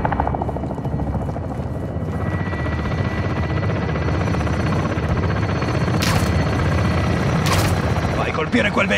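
A military helicopter in the Call of Duty Modern Warfare 2 campaign roars loudly and continuously with thumping rotor wash, joined by bursts of gunfire and sharp blasts, while radio voices talk over it.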